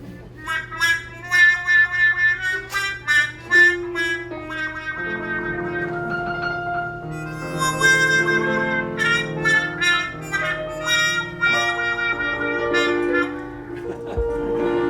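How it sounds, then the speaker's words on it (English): A trumpet fitted with a wah-wah mute plays a series of short, bright, nasal notes that open and close in a vocal wah pattern, close and solo, with a longer phrase in the middle. "This is called a wah-wah mute"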